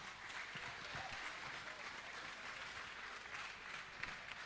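A crowd at a VEX Robotics national competition applauds steadily, dense clapping that holds at an even level throughout without pause.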